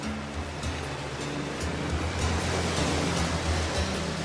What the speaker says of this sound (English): The waves breaking.